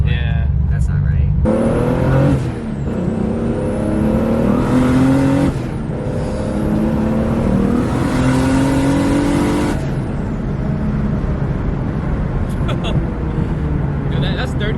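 Turbocharged 2JZ-swapped Subaru BRZ pulls hard through the gears, engine note rising in long sweeps with brief gaps at each shift, loud and close inside the car, with people talking over it.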